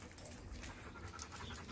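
Rhodesian Ridgeback dogs pant rapidly inside a boarding kennel, a quick rhythmic breathy huffing, faint and somewhat distant, with a voice speaking faintly in the background.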